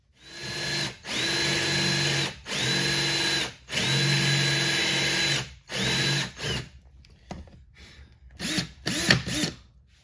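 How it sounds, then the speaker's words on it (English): A power drill fitted with Forstner bits bores into a guitar body to clear out a cavity, running in several bursts of steady whine separated by short pauses, then a few brief, lighter spurts near the end. "started by clearing out as much of the material as possible with some Forstner bits"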